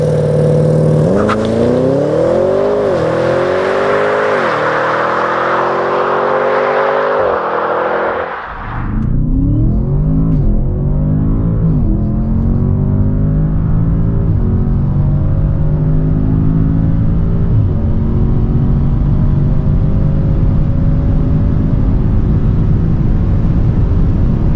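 Audi S8 accelerating hard at full throttle, engine roaring loud and close with rising pitch through the gears, a brief dip at a shift before the powerful drone climbs again and holds.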